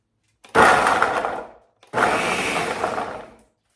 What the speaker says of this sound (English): adding the garlic into my Ninja blender. And put my lid on. I'm going to pulse this.